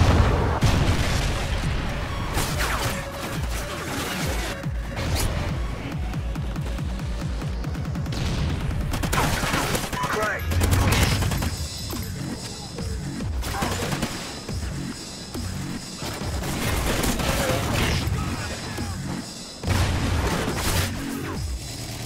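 Rocket strikes explode in the Call of Duty Ghosts video game, a loud barrage of booms, rumbling blasts and crackling gunfire that carries on almost without a break.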